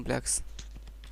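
Quick keystrokes on a computer keyboard while C++ code is typed, a few close clicks under a voice talking.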